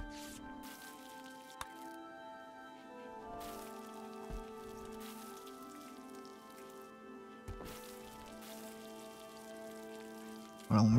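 Steady patter of vomit rain falling in the RimWorld video game, a soft continuous rain-like hiss over faint game tones, with a brief louder burst at the very end.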